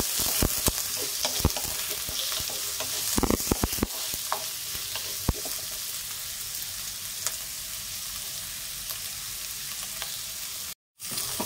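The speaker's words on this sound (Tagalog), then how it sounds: "Lato-lato muna natin ang ating onion at saka garlic." Onion and garlic sautéing in coconut oil in a pan, a continuous bright sizzle with occasional stirring scrapes and clicks, close and steady.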